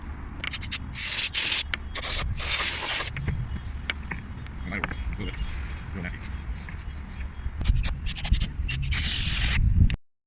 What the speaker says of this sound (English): This is super greasy, so I'm going to try to use the brake cleaner on it.